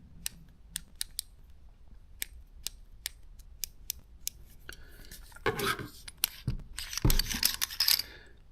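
Sharp, evenly spaced clicks from the adjustment dial of a high-end Chinese spray gun being turned, close and crisp, followed by louder handling and rustling noise near the end.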